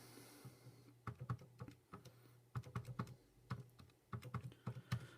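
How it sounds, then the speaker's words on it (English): Numbers tapped into a calculator for a sine calculation, bursts of quick light plastic key clicks in short irregular runs, close and quiet, with no talk. "Type that into the calculator."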